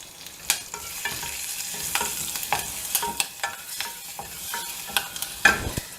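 Cumin, asafoetida and green chili crackle and sizzle in hot ghee, with sharp irregular pops and spatters over a soft frying hiss and occasional stirring, close and alone without talk.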